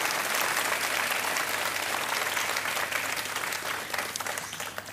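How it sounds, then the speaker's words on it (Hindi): Studio audience applause on a televised quiz show, a steady, dense roar of clapping that holds for several seconds before easing slightly. "तालियों के साथ इनका अभिनंदन किया गया"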